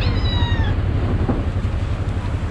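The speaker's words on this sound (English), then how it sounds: "I got four cats right behind me." Cats meowing for chicken at an island lunch spot in Malaysia: one clear, drawn-out meow up close over low wind rumble, then a quiet stretch.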